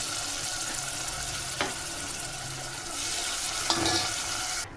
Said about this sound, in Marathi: आता शिजवलेला गरगट्टा आपल्याला टाकून घ्यायचा आहे यात